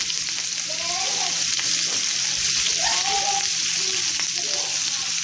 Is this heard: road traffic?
no